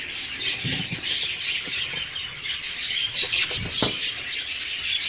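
Budgerigars in an aviary with chicks in the nest fill the air with dense, continuous chirping and chattering, plus scattered wing flutters and scratchy movement nearby, fairly loud and unbroken.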